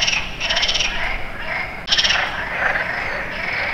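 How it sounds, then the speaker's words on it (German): Frogs croaking in a garden pond, a dense, loud chorus of rapid pulsing calls that continues steadily with a brief break midway. "die Frösche sind hier laut"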